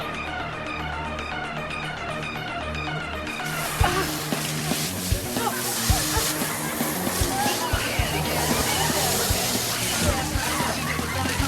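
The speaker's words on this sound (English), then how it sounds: "Yeah, maybe if your arm is spraying water, you don't point it at people!" Water sprays and splashes in a steady, sloshing rush that starts abruptly and continues loud and close, with bursts of splatter over a busy background of voices.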